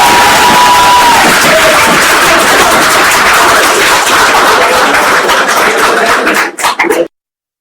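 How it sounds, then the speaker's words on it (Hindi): A courtroom crowd breaks into loud, sustained clapping and cheering right after a death sentence verdict is read out, a dense roar that fades and cuts off near the end. "जब ये फैसला यहां पर कोर्ट में सुनाया गया तो तुरंत वहां पर तालियां बजने लगी"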